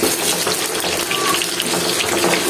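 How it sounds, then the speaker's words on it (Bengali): Garlic and dried chili frying in hot mustard oil give a loud, dense, continuous sizzle up close, with no talking. "এখন সরিষার তেল আর হচ্ছে এই যে রসুন আর শুকনো মরিচ তেলের মধ্যে ভেজে নেব"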